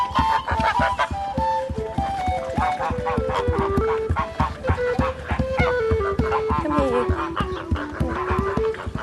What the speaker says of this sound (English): We've also got geese in the pond!